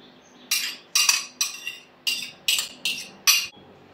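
Apple cake batter with grated apple being stirred in a bowl, a utensil scraping and clinking against the sides in seven quick, evenly spaced strokes, close and fairly loud, with no talking.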